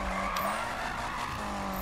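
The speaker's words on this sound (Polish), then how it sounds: "Jak tak samochód ściąga strasznie na jakąś stronę podczas driftu, ale nie driftuje tak fajnie" In Need for Speed (2015), a car drifts with loud continuous tire screech over a roaring engine, sustained and close throughout with no talk.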